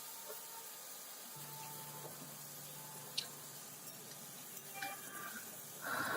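Flat beans stirred into hot tempering oil, a soft, quiet sizzle with occasional scrapes and stirring clinks of a spoon in the pan, with no talk.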